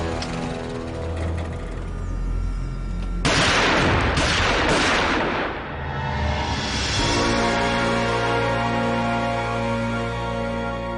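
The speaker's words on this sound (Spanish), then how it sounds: "Los 4 tiradores lo asesinaron a balazos allí mismo cuando estaba saliendo del coche." Rapid gunfire bursts in a reenacted mafia execution, several shots crackling loudly together for about three seconds over a steady background score, then fading back into the music.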